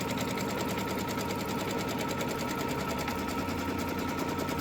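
A sewing machine stitches a straight line across a quilt block, a loud steady whirring run with rapid even needle ticks and no pauses.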